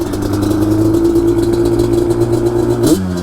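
Yamaha Banshee quad's two-stroke engine revving hard for a first-gear launch, a loud steady high-pitched engine note held close, then a sudden pitch shift near the end as it changes load.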